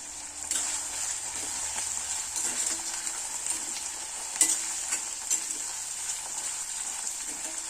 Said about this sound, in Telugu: ఇలా లైట్గా ఫ్రై అవనిచ్చి